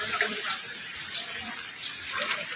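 Floodwater from Typhoon Carina pours into a low-lying house in Beverly Homes, Marilao, Bulacan, with a steady rushing and splashing that stays fairly close and even throughout.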